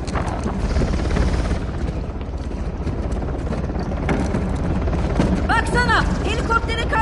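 Helicopter in the Uncharted video game, a loud, continuous rotor thrum and engine rumble mixed with gunfire and chaotic action noise, with brief voices near the end.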